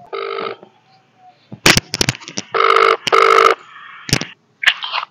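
A telephone rings in repeated electronic bursts, separated by short gaps, with clicks and brief noises between the rings.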